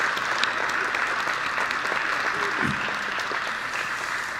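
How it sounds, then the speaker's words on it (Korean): A church congregation applauds its youth group at a Sunday afternoon worship service, a dense and steady roar of clapping filling the room, with a brief voice rising faintly underneath partway through. "우리 청년들 사랑합니다 하고 큰 박수로 우리 축복 갑시다"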